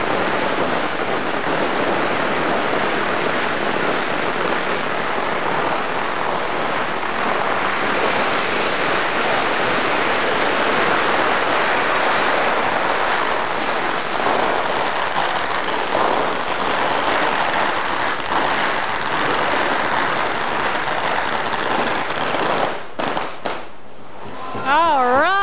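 Long dense barrage of 60,000 firecrackers popping at the 1993 San Francisco Chinese New Year parade, a loud continuous crackling roar that runs for over twenty seconds before breaking off near the end.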